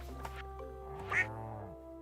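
A duck quacks once, short and fairly clear, in the Stardew Valley farming game, over a steady bed of soft game music.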